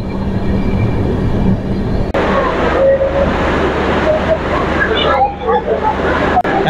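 The Ajmer SF Express pulls into Prayagraj Junction, heard from on board as a steady, heavy rumble of wheels and carriages with occasional metallic squeals and faint background chatter.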